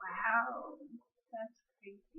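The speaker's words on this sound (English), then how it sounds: "Sorry if you hear meowing." A pet cat named Beatrix lets out a clear, drawn-out meow up close, followed by short, faint sounds while people chat nearby.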